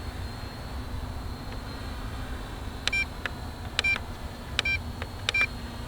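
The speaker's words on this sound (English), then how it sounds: "And I got a beep, so that must be battery." An MJX Bugs 6 drone emits its low-battery warning as short paired electronic beeps, four clusters spaced about a second apart over a steady hiss of background noise.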